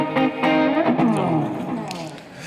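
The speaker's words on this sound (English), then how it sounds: "What you just heard was the overdrive section." Distorted electric guitar through a Jackson Audio Asabi overdrive pedal, with a gritty overdriven tone, plays a few strummed chords and notes, ringing out with some reverb.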